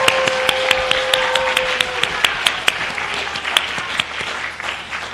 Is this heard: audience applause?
yes